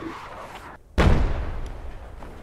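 Rocket impact in a military video game, a sudden loud blast after a brief hush, with a heavy low rumble that decays gradually over the next second and a half.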